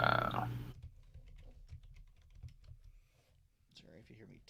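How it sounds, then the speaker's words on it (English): Someone types on a computer keyboard, giving a run of close, soft key clicks at an uneven rhythm. A voice speaks briefly at the start and end. "Sorry if you hear me typing"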